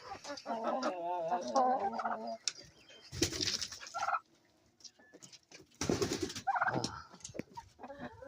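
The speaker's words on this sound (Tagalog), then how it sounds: "Hi turkey, how are you? How are you my turkey?" A turkey gobbles in bursts close by, mixed with clucking from hens and other fowl, while someone talks to the birds between the calls.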